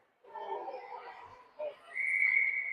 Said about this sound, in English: And we'll have a whistle.